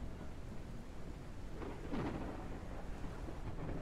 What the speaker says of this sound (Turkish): Oy, yağmur çok güzel değil mi lan?